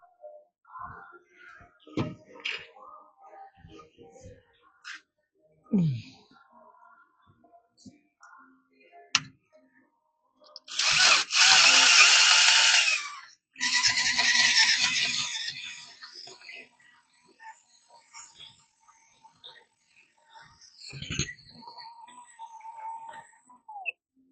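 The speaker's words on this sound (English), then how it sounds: "I just got to be careful with the drill" A drill bores through a thick steel plate for a Ford F250 leaf spring swap, two loud sustained grinding bursts close by, separated by a brief pause, amid scattered clicks and handling noises.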